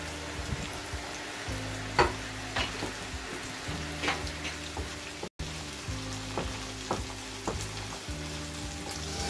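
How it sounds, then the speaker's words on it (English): Chopped tomatoes frying in a hot pan give a steady, close sizzle with scattered crackles and pops throughout, a low hum running beneath. "And I'm gonna add some chopped tomatoes."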